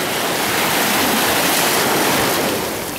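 Heavy surf breaks steadily over black volcanic stones on Puerto Naos beach, La Palma, a loud, continuous wash of churning water close by with no voices.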